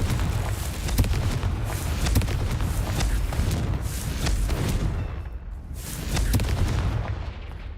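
Blasting-spell explosions in the Hogwarts Legacy video game, a steady rumbling barrage of booms and bursts over a dense low roar, loud and continuous.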